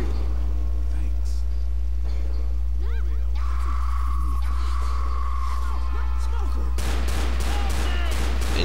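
Gunfire in the Left 4 Dead church level, with bursts of shots and a rapid volley near the end over a constant loud low hum and game music, with no voices in between.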